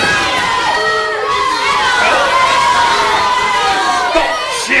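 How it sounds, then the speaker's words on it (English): A loud crowd of voices cheers and shouts continuously, with high, excited calls rising and falling together. "Stop cheering!"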